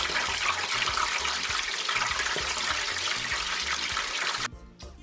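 Snails frying dry in a pan, a dense continuous hiss and crackle of sizzling that cuts off abruptly near the end.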